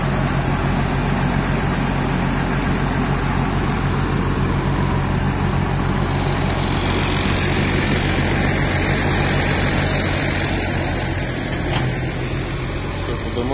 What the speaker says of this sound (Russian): Заводится с полоборота. Часы работают, двигатель работает как часики.